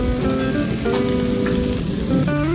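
Western omelette ingredients sizzle steadily on a flat griddle, a close, continuous frying crackle with some scraping, no voices.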